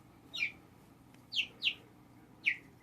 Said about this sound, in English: Yeah, those little baby chickens, they are noisy.